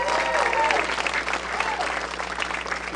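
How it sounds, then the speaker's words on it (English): Audience applause at a summit welcome session, honoring event sponsors; steady, dense clapping from a sizable crowd throughout, moderately loud, with faint voices mixed in. "Let's give them a round of applause."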